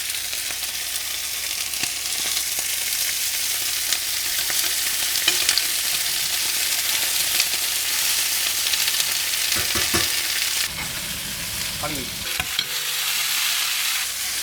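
Deer meat browning in oil in a seasoned pan, a loud continuous sizzle and fry with scattered stirring scrapes and clinks, ending in a few sharper knocks against the pan.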